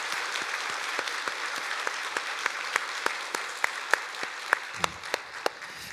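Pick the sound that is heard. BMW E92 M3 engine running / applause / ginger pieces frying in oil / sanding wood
applause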